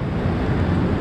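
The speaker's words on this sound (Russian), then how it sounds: "Волны." Sea waves rolling in on a hot day at the seaside, a loud continuous washing rumble with some wind buffeting the microphone, no talking.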